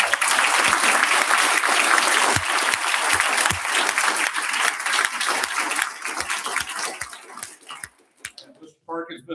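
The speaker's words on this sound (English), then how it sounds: "So let's just give everybody another big round of applause." A school board meeting audience gives a big round of applause, dense steady clapping that fills the room, then thins out near the end while a voice begins to speak.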